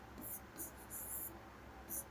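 Chalk or pen scratching in short strokes during a physics lecture on measurement, faint and close, four bursts of writing with pauses between them.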